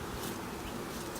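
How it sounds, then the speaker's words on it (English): Honey bees in large numbers buzz at a hive in a dense, continuous drone, close and steady throughout, with no voices over it. "Ton of bees."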